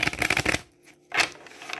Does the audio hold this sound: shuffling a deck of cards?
yes